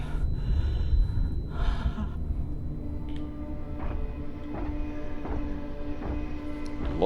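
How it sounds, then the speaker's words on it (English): A character in The Expanse video game breathes heavily, with two loud, rough gasping breaths early on that fade into quieter panting over steady game ambience. "Stop all that heavy breathing."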